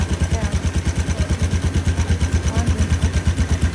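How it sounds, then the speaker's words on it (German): An old engine idling with a muffled, regular thumping pulse, steady and fairly loud throughout. "Thomas, ich will nur mal sagen, der typische Chef-Klang ist das, oder? Also mit diesem Schalldämpfer"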